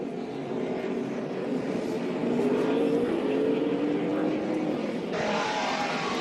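A NASCAR Camping World Truck Series race truck at the 2014 Kroger 250, heard from a roof-mounted onboard camera. Its engine makes a steady, moderately loud drone with a rising pitch sweep midway.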